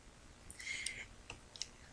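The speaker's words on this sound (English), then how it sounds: "now I'm going to use my scissors and just fussy cut out my image here." Scissors make a few quiet, crisp snips while fussy-cutting a paper image, in short irregular clicks close by against a soft, hissy background with no speech.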